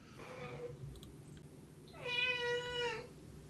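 A domestic cat meows close by, first a short faint call, then a longer, louder drawn-out meow over quiet room noise.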